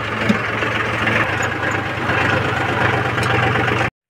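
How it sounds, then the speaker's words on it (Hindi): A tractor engine idles close by near water, a steady low rumble with a mechanical clatter that holds evenly and then cuts off abruptly. "तो गाइस अभी ट्रैक्टर को स्टार्ट करके अभी लेके जा रहा हूँ"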